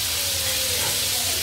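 Bagga fish frying in a pan with a steady, continuous sizzle and hiss, close and fairly loud, with a faint low hum underneath and no talking.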